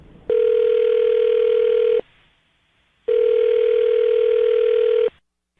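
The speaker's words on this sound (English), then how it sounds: "I'm dialing her phone number right now." Telephone ringback tone heard while a call is placed, two long, loud, steady electronic rings of about two seconds each, separated by a short silence.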